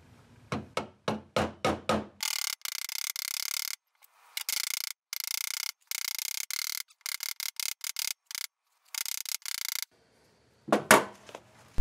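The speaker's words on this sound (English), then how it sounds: "I punch in my front main seal, which isn't too difficult with this handy hammer I made." Quick sharp knocks of a homemade hammer drive a front main seal into a BMW 2.5-litre M54B25 engine block during a rebuild, a fast burst of taps first, then scraping and irregular tapping, ending in a few more strikes.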